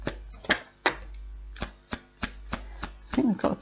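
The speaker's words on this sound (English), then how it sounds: "One more shuffle round." Tarot cards are shuffled by hand in short bursts, each a crisp flutter or slap spaced roughly every half second, close and fairly quiet, with a soft voice briefly at the end.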